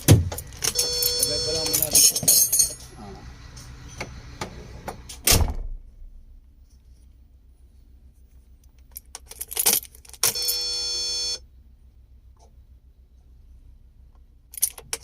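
Car keys jangle and clink up close, first in a long busy stretch and then in short bursts, alongside handling noises, a door sound and a brief steady tone while someone talks.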